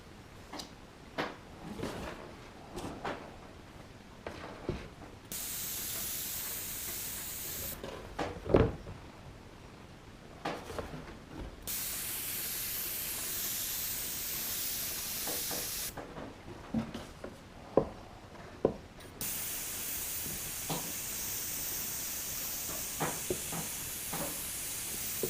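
An airbrush sprays paint onto model railway scenery rocks in three sustained hissing bursts of several seconds each, separated by gaps filled with faint handling clicks and knocks.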